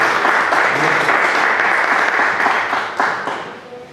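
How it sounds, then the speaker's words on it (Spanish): A room of attendees at a legal analysis forum breaks into strong applause, dense and continuous clapping that holds steady before tapering slightly toward the end, with no speech over it. "Vamos a darle el uso de palabra y un fuerte aplauso."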